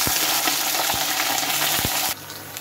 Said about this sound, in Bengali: এখন এই তেলের মধ্যে আমি বেগুনগুলো দিয়ে নেব